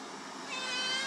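A kitten meows steadily in a home, its cries close and fairly loud with a rising, sustained tone over about a second.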